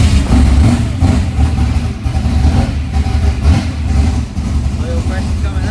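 An old ute's engine runs with a rough, throbbing low rumble, with someone talking over it.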